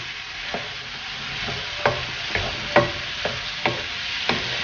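Okra (vendakkai) being stirred in a pan for vendakkai mandi, a steady sizzle of frying under a series of sharp spoon scrapes and knocks spaced roughly half a second to a second apart, close and alone.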